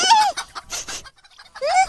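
Cartoon chicken clucking in short, sharp bursts, close and clear, with a pause in the middle before a final squawk.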